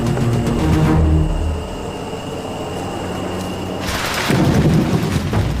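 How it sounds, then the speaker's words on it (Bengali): Thunder rumbles through a Panamanian jungle during the monsoon season, a deep low roll swelling at the start and again near the end, with a steady wash of rain beneath. "আর এই বাজ পড়ায় অবস্থা আরও খারাপ।"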